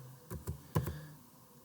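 A few quick keystrokes on a computer keyboard, tapped in a short irregular cluster while modelling in SketchUp, close and quiet in a still room.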